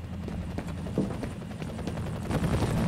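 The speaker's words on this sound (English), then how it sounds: "Of course the chopper now flies away" A helicopter in the video game F.E.A.R. flies away, its rotor chop and engine whine rising and falling at moderate loudness with scattered thumps of game sound, no voices present.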